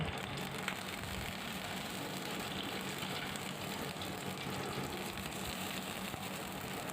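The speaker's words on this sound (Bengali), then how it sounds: "এখন ওই তেলের মধ্যে আমি দিয়ে দেব পাঁচফোড়ন শুকনো লঙ্কা সেই সাথে একটা কাঁচা লঙ্কাও দিয়ে দেব" Panch phoron and dried red chilies sizzle in hot oil in a pan, a soft, continuous frying crackle and hiss heard close and fairly quiet throughout.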